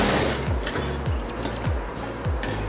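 Sewing machine stitching a blouse, running in a continuous close mechanical whir with a rhythmic pulsing hum and small repeating dips about every half second, no speech over it.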